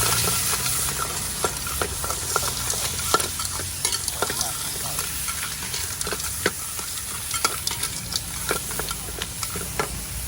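Steady sizzling of shrimp fried rice with roasted chili paste stir-frying in a hot wok, with frequent scraping and clinking of a utensil stirring at close range.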